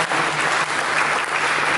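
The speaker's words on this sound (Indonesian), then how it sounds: "Mari kita berikan tepuk tangan kita bersama." A church congregation breaks into steady, dense applause that fills the space evenly from start to finish, with a faint low hum underneath and no voices.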